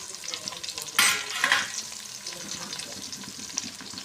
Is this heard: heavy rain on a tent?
no